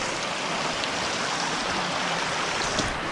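A river stream flows through a small valley, a steady, dense rushing of water that stays even and continuous throughout with no voices.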